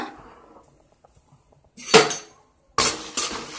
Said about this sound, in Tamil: இந்த மாதிரி கிளறிட்டே இருக்கணும்.